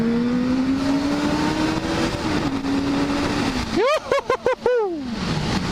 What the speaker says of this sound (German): Endlich wieder Moped fahren.